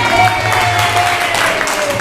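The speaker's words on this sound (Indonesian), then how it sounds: "Tepuk tangan dong." Audience applause at a public speaking training session, a steady wash of clapping at moderate loudness that runs the whole clip with some background hum.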